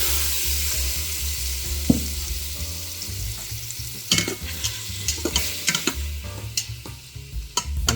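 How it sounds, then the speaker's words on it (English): Shrimp cooking in a hot pan for a chicken and shrimp Alfredo pizza, a constant loud sizzle with a low rumble beneath it and a run of clattering stirring knocks toward the end. "set that aside and then add the shrimp"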